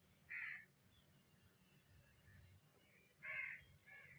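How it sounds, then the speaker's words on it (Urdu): A crow caws twice in the background, a short harsh call near the start and another a few seconds later, over a low steady hum with no speech. "آپ بیک گراؤنڈ میں بھی آواز سن رہے ہوں گے کوے کی۔"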